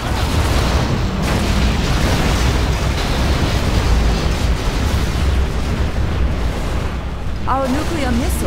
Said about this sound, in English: Our Scud Storm has been launched.